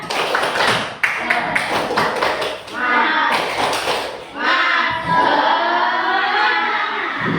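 Schoolchildren in an Indonesian elementary classroom perform the tepuk semangat clapping chant, with rhythmic bursts of claps and taps alternating with young voices chanting in unison, loud and close.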